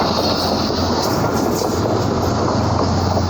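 The 7 Special train passes on Pakistan Railway, a loud, close, continuous rumble of rolling wagons and wheels on track that holds steady throughout.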